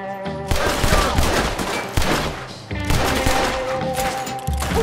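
Rapid bursts of gunfire from firearms in Red Dead Redemption 2, loud and dense, in several volleys with brief lulls between them, layered over a busy game soundscape.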